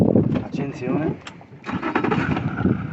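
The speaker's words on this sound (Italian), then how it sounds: "prima accendiamo il motore" An outboard engine on an anchored boat starting up, a short cranking burst and then the motor catching and running at a rough idle, close, with people talking over it.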